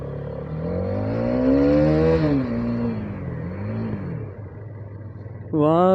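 A KTM Duke motorcycle revs and pulls away in rising, falling engine sweeps, loud and near, with someone talking over the ride and a fresh sharp rev at the end.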